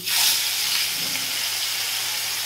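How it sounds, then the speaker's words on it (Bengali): Koi fish pieces go into hot oil with a sudden loud hiss that settles into a steady, even sizzle, close and continuous with no other sounds over it. "মাছটা আমি আগে ভেজে তুলে নিই"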